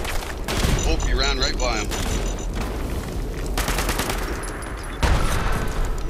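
Rapid gunfire in Fallout aimed at a rock, crackling bursts running through the scene with a louder burst near the end, while players talk over it.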